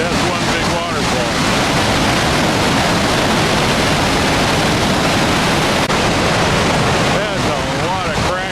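Iceland's largest waterfall thunders in a continuous, loud roar of crashing water, steady broadband noise throughout with brief voices faintly audible at the start and near the end.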